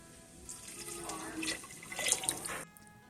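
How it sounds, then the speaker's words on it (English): Leftover vegetable broth from home canned green beans pours into a pot, a soft liquid splash and trickle building over a few seconds before stopping abruptly, close and fairly quiet. "I'm also going to be adding in some leftover vegetable broth from our home canned green beans."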